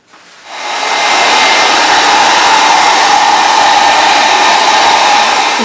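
A hair dryer switches on and blows steadily over watercolour paint, its loud, even whooshing roar rising in the first second and then holding constant.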